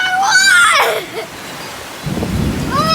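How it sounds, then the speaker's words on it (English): Heavy rain pours steadily outdoors near an overflowing pool, a dense wash of noise with a thunder-like rumble late on, while excited voices exclaim over it. "We haven't had this kind of rain in a while."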